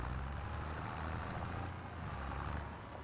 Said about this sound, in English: I love how these old tractors sound.